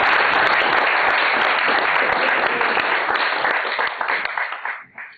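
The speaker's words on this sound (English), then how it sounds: "let's welcome Professor Pastreich with a big round of applause" An audience at a scholarly lecture on Korea's future applauds a guest professor, a dense, loud wash of clapping that thins out and fades at the end.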